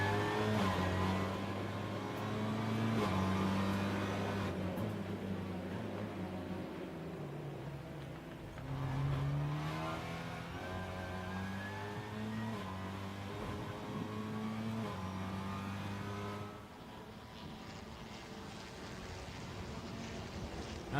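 TCR touring race cars of the South American series accelerating at the Termas de Río Hondo circuit in Santiago del Estero, a steady blend of engine drone and rising pitch that holds nearly continuously, loud and fairly close, without voices.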